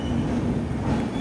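Cocanada SF Express 12776 train pulling away at the start of its run toward Kakinada Town, a steady low rumble of rolling carriages heard from inside, close and continuous with no talk.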